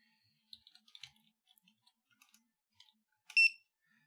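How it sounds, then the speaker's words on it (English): A smart ceiling fan controller's buzzer gives a sharp, loud electronic beep near the end, after a scattering of faint clicks and small button taps; no one speaks. "buzzer on keeps it going when changing speed"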